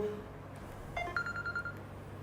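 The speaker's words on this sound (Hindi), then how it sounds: "फोन आ गया, बाद में करूंगा बात।" A faint, brief telephone tone sounds a few short beeps against a quiet room hum.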